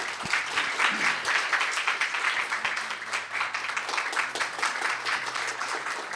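An audience at a Korean speaking contest for foreign students applauds the foundation chairman as he comes on stage, a continuous wash of many hands clapping that holds evenly for several seconds in a large hall.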